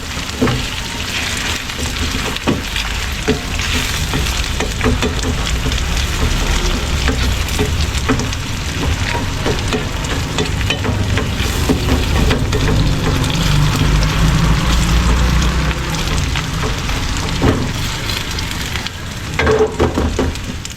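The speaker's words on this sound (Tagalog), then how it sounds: "Para medyo mag-fried ng konti yung hotdog, tas mamaya isasama natin dito yung corned beef." Hotdog slices frying in a pan ahead of corned beef for a sopas snack, a steady close sizzle and crackle of hot oil running unbroken for the whole stretch, with occasional stirring clicks and no voices.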